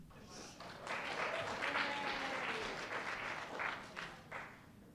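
Students and staff at a school leadership summit break into applause, a sustained wash of many hands clapping that swells, holds for several seconds and tapers near the end.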